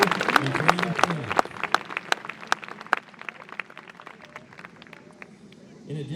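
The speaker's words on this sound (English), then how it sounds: "Would you give those 3 businesses a round of applause?" Scattered clapping rises from the audience at a marching band's annual banquet to thank three sponsoring businesses, with individual sharp claps over crowd murmur and a voice talking at the start and again at the end.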